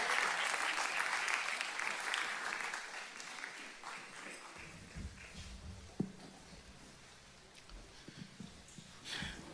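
A church congregation applauds together, loud and dense at first, then thinning out into scattered claps and a few stray sounds as it dies down.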